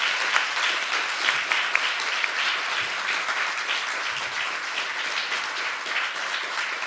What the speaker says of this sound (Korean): 그런 의미에서 자축하는 의미에서 먼저 박수 부탁드립니다.